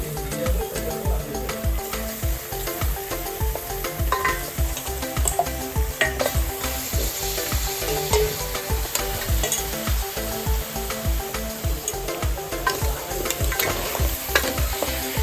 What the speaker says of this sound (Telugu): నీట్గా ముక్కలకంతా కారం అన్నీ పట్టేంత నీట్గా కలుపుకోవాలి.